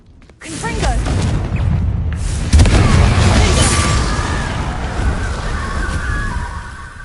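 A Confringo fire spell blasts in Hogwarts Legacy, a loud booming burst that swells around the two-and-a-half-second mark amid sloshing, rumbling spell effects and continuous game noise.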